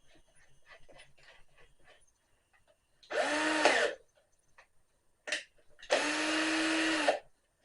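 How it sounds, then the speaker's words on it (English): A power drill drives screws into door hinges in two bursts, each a loud whirring spin of about a second that winds down, with a short blip between them and quiet handling clicks before. "Now, to screw on some screws."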